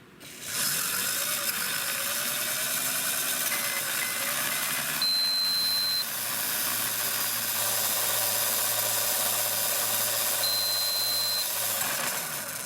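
A Tamiya Mini 4WD motor fitted in a Mini-Z or Mini-Q car runs on a speed test. It gives a steady, fairly loud whine with a ratcheting, gear-like mechanical whir that holds for about eleven seconds and then stops.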